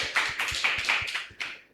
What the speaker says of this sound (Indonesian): Kasih aplaus untuk beliau.